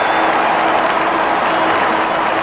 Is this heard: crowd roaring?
yes